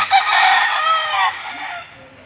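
A dark red sweater kelso gamefowl rooster crows once, loud and close, a long strained call that fades out near the end.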